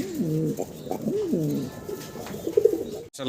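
Fancy pigeons coo close by in soft, rolling, repeated calls that overlap one another, with a brief rustle near the end and no talking.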